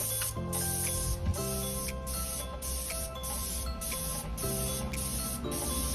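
A paint sprayer hisses in steady bursts while spraying exterior siding, starting and stopping repeatedly over a constant mechanical hum, close and loud.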